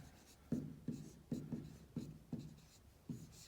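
Pen or pencil writing decimal numbers by hand on paper, a quiet series of six or seven short scratchy strokes in an even rhythm, close and soft with no talking.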